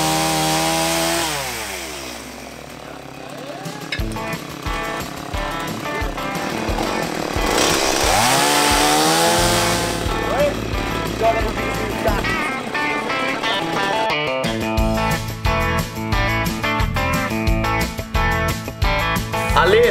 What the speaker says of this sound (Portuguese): Você me ajuda com a motosserra